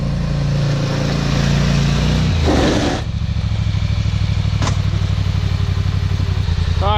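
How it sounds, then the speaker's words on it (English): A Polaris Sportsman 850 ATV on its factory exhaust idles loudly and close, with a steady throbbing rumble, a brief rev and clatter partway through, then settling back into an even pulsing idle. "this is my Polaris Sportsman 850. Let me shut it off. As you can hear, it still even has the factory exhaust."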